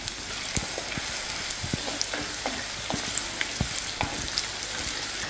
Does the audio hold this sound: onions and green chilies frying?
yes